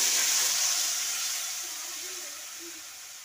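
Tamarind water poured into a pan of fried tilapia hisses and sizzles steadily, a bright, close steam hiss that eases slightly as it settles, with no talking.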